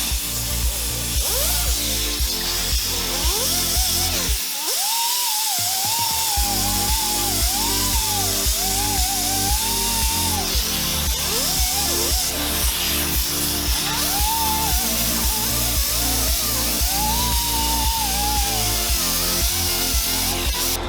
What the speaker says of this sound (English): So first I have my angle grinder. I'm just gonna clean up the wheels where it needs it.